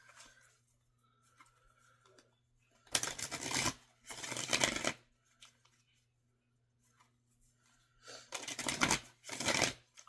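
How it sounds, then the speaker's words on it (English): Tarot cards being shuffled close by in four quick riffling bursts, each lasting under a second, separated by quiet pauses with faint low hum. "Just shuffle the cards a little bit."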